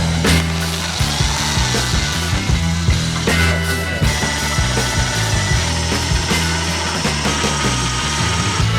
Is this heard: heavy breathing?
no